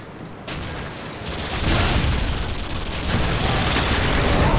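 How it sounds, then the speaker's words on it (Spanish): Gunfire in the online shooter Modern Warfare 2: dense, continuous rattling bursts build after a quieter start into a loud, sustained wash of shots and explosions with no talk. "Venga, disparamos a saco"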